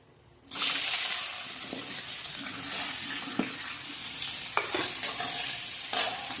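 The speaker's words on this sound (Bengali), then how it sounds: "ফুলকপিটা ভেজে নেব।" Cauliflower dropped into hot oil in a pan bursts into a loud, continuous sizzle, with occasional sharp clicks and scrapes of a spatula stirring close by.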